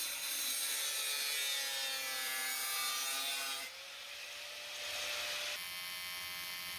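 Cutting a round base out of metal sheet in a workshop, a steady grinding, rasping cut running continuously with slight changes in pitch and a brief shift partway through, close and fairly loud with no talk.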